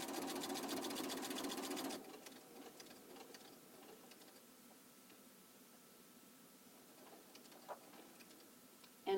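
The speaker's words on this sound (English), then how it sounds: "I'm going to sew right to where that pin is." A sewing machine stitches binding onto a quilt, running loud and steady for about two seconds before dropping to a faint, quiet background.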